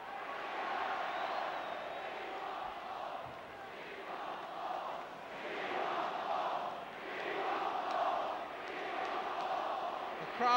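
A football crowd at a 1972 Manchester City versus Manchester United match chants in rising and falling waves, distant and filling the stadium, with no talk over it.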